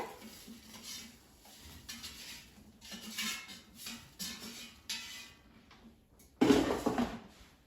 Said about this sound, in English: Let me take them out of the air fryer.